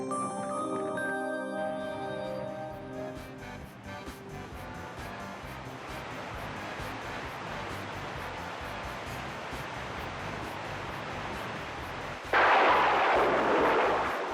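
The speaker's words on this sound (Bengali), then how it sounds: "আমি তো বাজ পড়ার আওয়াজে ভীষণ ভয় পাই রে বাবা" Thunder in a lightning storm: a low, continuous rumble follows a fading musical tone, then a sudden louder burst of crashing thunder near the end.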